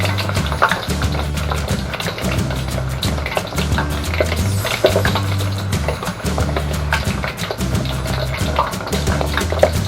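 Chicken feet deep frying in hot oil, a loud continuous bubbling hiss broken by frequent sharp pops and crackles, with no voices.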